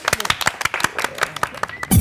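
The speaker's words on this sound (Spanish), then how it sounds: "¡Aplauso, aplauso!" Children's theatre audience claps after a play on healthy living habits, sharp handclaps crowding together in a quick, uneven patter, with voices calling out over the clapping throughout.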